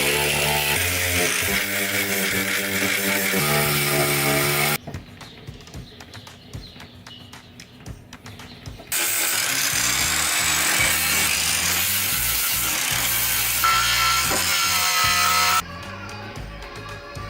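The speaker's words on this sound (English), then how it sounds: "as you angle grind away surface rust, quite often it leads to finding bigger patches of rust" An angle grinder strips surface rust from the metal body of an old VW T2 campervan, its loud, steady whine running in long bursts broken by quieter gaps of clattering handling noise.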